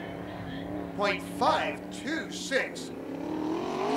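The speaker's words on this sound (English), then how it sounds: "He'll take his car into turn 3, standing on the gas, coming around turn 4." A sprint car at Attica Raceway Park races around the track, its engine note rising and falling in several quick surges, heard under an announcer's voice calling out times.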